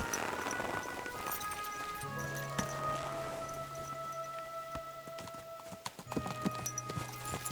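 Horse hooves clip-clop at a steady trot while riding in Kingdom Come: Deliverance 2, with music and ambient game sounds underneath and no talk.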